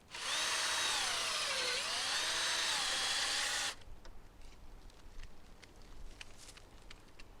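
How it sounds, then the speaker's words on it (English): A power drill whines loudly and steadily, its pitch dipping and rising as it bores a tap hole into a black walnut tree, then stops, leaving quiet rustling and faint handling sounds. "When you drill your hole, you want to go at an upward angle"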